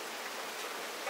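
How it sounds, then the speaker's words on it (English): Steady soft hiss of rain falling on a surface, faint and even throughout, with no voices. "but it's raining"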